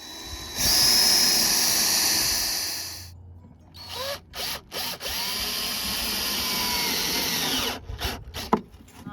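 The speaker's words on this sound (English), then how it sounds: "we're going to drill holes before we screw them together" A power drill bores holes into wooden furniture pieces. A long, loud whine of the motor biting into the wood is followed by several short bursts of drilling, separated by pauses and handling noise, and ends with a few quick triggers.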